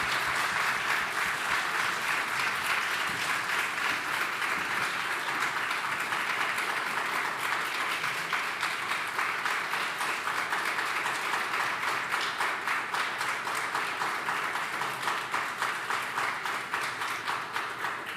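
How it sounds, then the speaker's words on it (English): An audience applauds steadily for a long stretch, dense clapping from many hands at an even level, with no voices above it. "please join me with a warm round of applause for Register."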